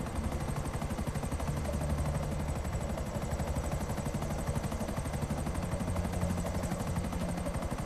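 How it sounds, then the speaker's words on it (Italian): A helicopter in GTA 5 thrums with a fast, steady rotor chop and engine whine, loud and continuous for the whole stretch with no talk. "Sbrogliamo sto elicottero"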